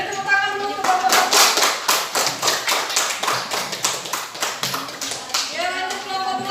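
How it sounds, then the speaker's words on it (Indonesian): Audience clapping in a classroom session after a presentation: dense, close applause with a rhythmic run of claps lasting several seconds, with a voice speaking at the start and end. "Boleh tepuk tangan dulu untuk Bapak"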